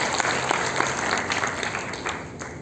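A church congregation claps together during a Christmas sermon, giving a steady, dense burst of applause that carries through the whole moment without pause.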